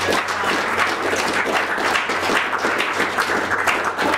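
An audience claps steadily in sustained, even applause, dense and fairly close, with no talking over it.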